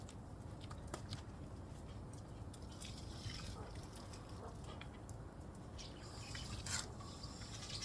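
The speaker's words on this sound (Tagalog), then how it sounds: "Tatapon na natin yung tubig." Water is poured out of a container after rinsing dried danggit fish and dried squid in a home kitchen: a steady, fairly faint splashing and dripping flow heard alone, with no talk.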